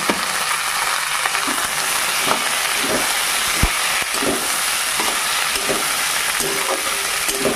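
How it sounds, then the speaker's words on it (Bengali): Onion and tomato frying in a pan for a raw tomato curry, a loud, dense hiss of oil with scattered spatula taps and stirring scrapes that continue throughout. "পেঁয়াজটা ভালো করে ভেজে নিয়েছি, এবার তার মধ্যে টমেটোটা দিয়ে একটু ভালো করে ভেজে নেব"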